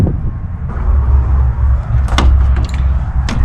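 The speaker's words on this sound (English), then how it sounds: "This door's locked." Door handle rattled and clunked a few times as someone tries a locked door at a memorial park building in Bradenton, Florida; sharp close knocks and metallic clicks over a steady outdoor hum.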